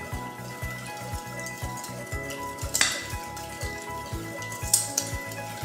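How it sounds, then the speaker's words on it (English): A whisk beats salad dressing with chunky pear chutney in a bowl, making fast, steady, rhythmic scraping strokes that repeat evenly and close by, with no talking. "And we're gonna whisk that up."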